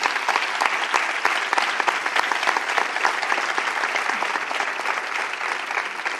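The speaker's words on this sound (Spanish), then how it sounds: "Un aplauso para ellos." At a poster presentation honoring costaleros and capataces for La Bella and San Roque in Lepe, a crowd claps steadily, loud and close, in dense sustained applause throughout.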